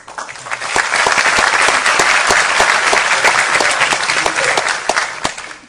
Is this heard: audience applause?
yes